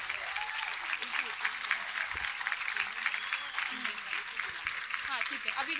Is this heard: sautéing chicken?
no